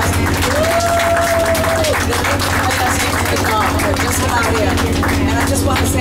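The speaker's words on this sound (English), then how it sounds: "Give them a great big round of applause." Audience clapping after a late-night live performance, dense and loud with a low steady hum underneath and a brief voice near the start.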